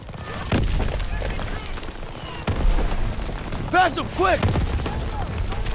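Gunfire and a grenade explosion in the World War II shooter Call of Duty WWII, with heavy booms and scattered shots thudding under shouted dialogue and voice commands.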